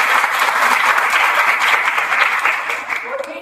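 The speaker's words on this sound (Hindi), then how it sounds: "उसके लिए जोरदार तालियां होंगी" A crowd at a high school ceremony breaks into loud, sustained applause for students, a thick roar of clapping that holds steady and fades slightly near the end.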